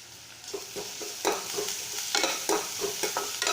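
Onion, garlic and crushed ginger frying in a pan, a steady sizzle broken by repeated stirring scrapes and clatters at an uneven rhythm, close and fairly quiet, with no voices.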